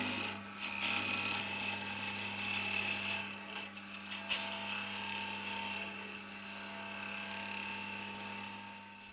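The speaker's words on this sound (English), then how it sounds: "After gluing the boxwood and Cocobolo together, profile the wastewood with a roughing gouge." A wood lathe spins a glued blank of boxwood and cocobolo while a roughing gouge profiles the waste wood, giving a steady, even mechanical whir and hiss with no talking.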